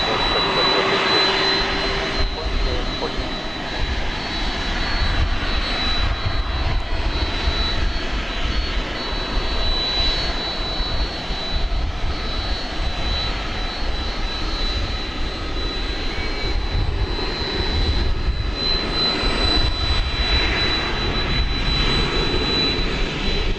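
A Boeing 747 jet roars during takeoff at DFW Airport at night, a broad, steady engine rumble with a thin high whine running through it, sustained and fairly loud throughout.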